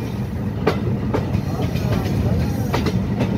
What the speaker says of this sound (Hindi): यहाँ से ट्रेन जो है थ्रू आउट पास होएगी, स्टॉपेज नहीं है यहाँ पर ट्रेन का।